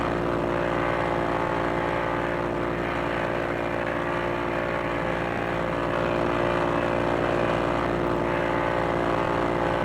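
P-40E Warhawk WWII propeller fighter in a VR flight game over a bay, its engine and airscrew droning in a steady, loud, unbroken roar from start to finish with no talk.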